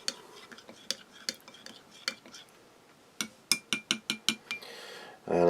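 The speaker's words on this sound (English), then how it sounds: "So I'm going to just give that soup another little stir there." A spoon stirs soup in a Spanish Army combat ration container, making a series of light metallic clinks and taps. They are sparse at first, then come in a quick run before a louder sound at the end.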